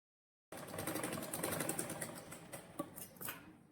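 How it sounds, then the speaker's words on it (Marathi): A sewing machine stitches a seam on a princess-line collar blouse, starting abruptly after a brief silence and running as a steady, fast mechanical whir with faint clicks, moderately close. "मी स्टिच मारून घेते."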